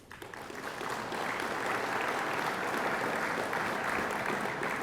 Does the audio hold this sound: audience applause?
yes